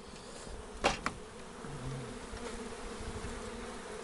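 Honey bees buzz quietly around a beehive during extraction, a faint steady hum with a couple of brief louder passes of bees flying close.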